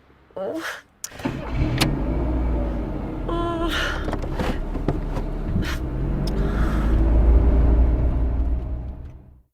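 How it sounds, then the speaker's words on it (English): A car engine cranks and catches, then settles into a steady low idle rumble, with a brief whir like an electric window and people speaking over it. "Can you start the car, please?"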